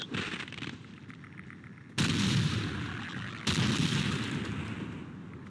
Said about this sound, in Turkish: çok güçlü bir pompalı. Evet, ikişer ikişer atıyor gibi